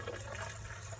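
Gasoline poured into a car engine to flush out old oil and muck after an oil change, a steady continuous liquid gurgle and trickle filling the whole second, close and even with no pauses.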